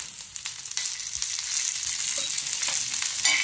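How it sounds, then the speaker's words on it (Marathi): Green chillies fry in oil in a pan, giving a steady close sizzle and crackle that rises slightly toward the end, with no talking over it. "तेल घातलं की व्यवस्थित भाजलं जातं"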